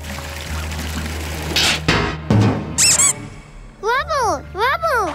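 A cartoon sequence from a PAW Patrol episode set around a bathtub and pipes: a clank and thumps, then a chirpy run of high, wavering cartoon squeaks, loud and close.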